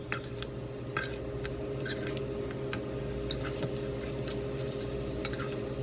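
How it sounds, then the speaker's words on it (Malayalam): Mutton frying in a pan while being stirred, with light, irregular clinks and scrapes of a utensil against the pan over a steady background hum. "മട്ടൻ്റെ കളറെല്ലാം ഒന്ന് സ്ലൈറ്റ്ലി മാറുന്നത് വരെ നമ്മൾ ഫ്രൈ ചെയ്യണം."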